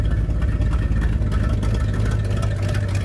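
A 1970 Ford Torino powered by a small-block Chevy V8 runs steadily, a loud continuous engine rumble heard close from behind the car with no talking.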